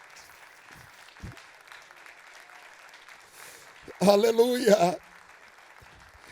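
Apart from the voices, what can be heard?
church congregation applauding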